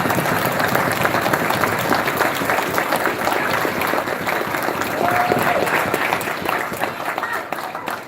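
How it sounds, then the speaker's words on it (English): A crowd applauds steadily for several seconds, dense clapping filling the room with a few voices mixed in, tapering slightly at the end. "we just want to give them a round of applause again"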